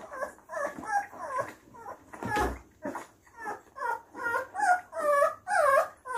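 Young bully puppies, about ten days old with eyes just opening, whimper and squeak in a steady series of short, high whines while being bottle-fed with milk, fairly close and soft, with one brief louder rustle midway.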